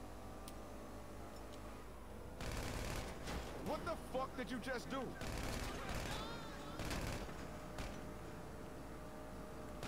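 Gunfire in GTA 5 Online, a burst of several sharp shots followed by scattered single shots and a second burst, fired from inside a vehicle, with game music and chatter underneath.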